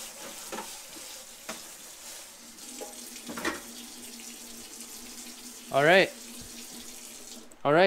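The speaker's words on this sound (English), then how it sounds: "I'm gonna run this thing under some hot water." Hot water runs from a kitchen tap over a LEGO base plate, a steady hiss of spray and splashing for most of the stretch, with brief louder bursts near the end.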